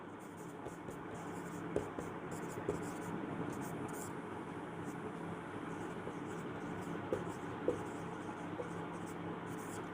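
Pen or chalk writes by hand during a maths lesson, making faint, soft scratching strokes with a few small taps over a quiet room hum.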